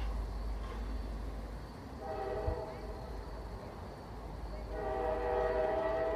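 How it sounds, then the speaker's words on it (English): A train passes about a block away, its distant rumble and faint horn blasts rising and falling at low level, with a voice speaking over it. "I hear trains pass about a block away on 3rd Street."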